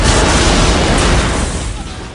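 A loud, broadband explosion roars from a 1999 James Bond action film scene, a sustained rumbling blast that holds steady before slowly fading out over about two seconds.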